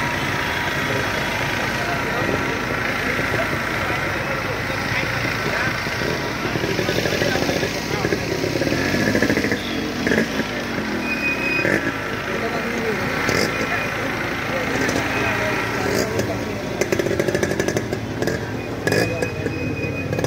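Motorcycles idle and rumble continuously at a large bike rally held to welcome Lord Ram in Ganpatipule, a dense engine drone with faint revs and clatter, with no clear speech over it.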